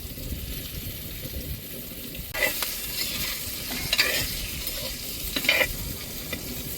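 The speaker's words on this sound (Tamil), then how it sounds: "நல்லா முக்கால் பதம் நல்லா வெந்து வர தட்டிக்கு நல்லா வதக்கி விட்டுக்குருவோம் எண்ணெயிலேயே" Eggplant sautéing in oil gives a steady hiss, broken by a few bursts of stirring and scraping in the pan.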